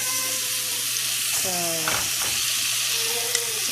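Mushrooms frying in a pan give a steady, loud sizzle with stirring scrapes partway through, while a voice speaks briefly over it.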